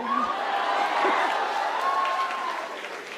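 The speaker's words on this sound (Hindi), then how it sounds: "लेकिन अगर तुम अपनी बहनों से प्यार करते होगे तो ताली बजाओगे" An audience at a patriotic kavi sammelan poetry recital claps in a steady, dense wash of applause, with a voice briefly heard over it.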